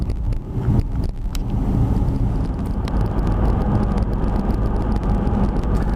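A car cruises down the highway with a steady, close interior road rumble and engine drone, broken by a few brief thumps early on.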